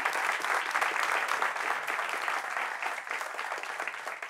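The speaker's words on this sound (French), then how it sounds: "applaudissements pour le docteur" Audience applause for a doctor on a French-language talk show, a steady dense clapping from a studio crowd that holds evenly for about four seconds with no voices over it.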